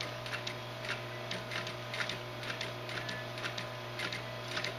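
An industrial sewing machine, its handwheel slowly turned under light motor control, gives a steady series of soft mechanical ticks and clicks over a constant low motor hum, close by with no voices.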